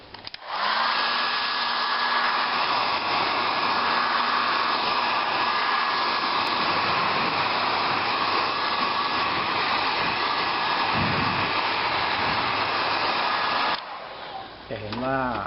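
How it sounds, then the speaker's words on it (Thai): A hair dryer blows steadily at a wire window screen to loosen dirt, a loud, continuous whine running for about thirteen seconds before cutting off, with brief clatter at the end. "แต่เราจะลองใช้ไดเป่าผมดูก่อนว่ามันจะออกไหม"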